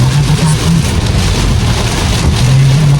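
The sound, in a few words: heavy rain pouring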